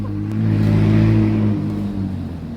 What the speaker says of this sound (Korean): 맥라렌, 맥라렌, 맥라렌 지나갔어.